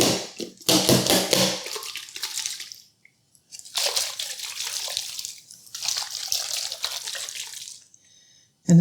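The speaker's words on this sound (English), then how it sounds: "I added some water to it" Water sloshing and splashing inside a LocknLock plastic food storage container with a locking lid, in bursts of shaking separated by short silent pauses, close and fairly loud.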